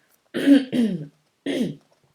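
Three short, rough throat-clearing bursts, close and fairly loud, the first two back to back and a third after a brief pause.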